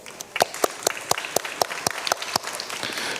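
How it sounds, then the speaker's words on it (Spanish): Applause for a speaker at an international circular economy forum, heard as sparse, distinct claps in an irregular rhythm, fairly close and moderately quiet, swelling slightly toward the end. "Le damos un fuerte aplauso."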